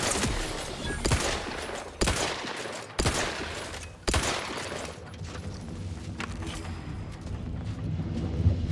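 Gunfire from a firefight in The Outer Worlds 2: a dense, sustained fusillade with sharp bursts every second or so over the first four seconds, then steadier rattling fire with a low rumble continuing to the end.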